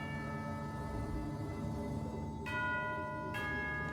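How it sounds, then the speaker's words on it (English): Two bright bell tones ring out in the video game Genshin Impact, the first near the middle and the second about a second later, each sustained over a steady musical background with no talking. "You hear the sound of a bell."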